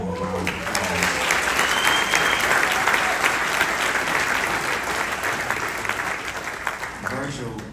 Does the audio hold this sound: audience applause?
yes